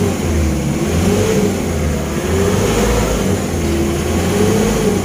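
Mercedes-AMG car engine revving, a loud steady mechanical drone close by, rising and falling gently with the throttle and no talk over it.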